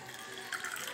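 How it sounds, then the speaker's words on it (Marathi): Water pours into a small cooker holding lentils, making a brief, soft, continuous splashing close by with no talking. "आता त्याच्यामध्ये भरपूर पाणी टाकणार आहे"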